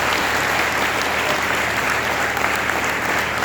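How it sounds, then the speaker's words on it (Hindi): Loud, sustained applause from a school audience at a Hindi Day function in honour of a Hindi lecturer, a dense wall of clapping running unbroken throughout. "एक बार जोर से तालियां बजाएं"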